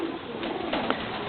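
A Tinggian Tomprang racing pigeon gives a soft, low coo, brief and faint, against a steady noisy background.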